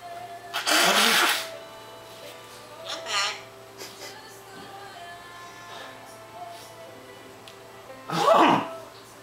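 A person lets out one loud, close sneeze, followed by softer vocal sounds and a second forceful burst near the end.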